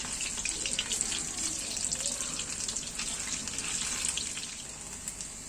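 Pieces of crispy honey garlic chicken deep frying in hot oil bubble with a soft, continuous seething and crackle, fairly quiet and steady, with no speech.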